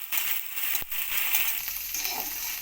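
Ginger and green chilli paste sizzles and fries steadily in a pan, with a sharp stir or scrape near the start; close, continuous and alone.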